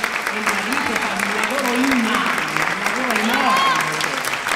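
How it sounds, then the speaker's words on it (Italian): An audience applauds at an opera gala concert for the finalists of an international singing competition, a steady wash of clapping throughout while a voice talks over it. "dobbiamo fare un grandissimo applauso invece alla direttrice artistica di questo"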